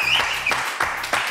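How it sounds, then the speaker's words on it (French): A French television studio audience claps together before a commercial break, a dense burst of applause with a few sharper, louder hand strikes rising out of it. "que je vous demande d'applaudir très très fort"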